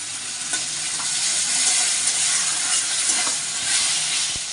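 Soaked spices with cumin powder and chili powder frying in a pan, a continuous loud sizzle and hiss with occasional stirring scrapes, close and steady throughout with no talk.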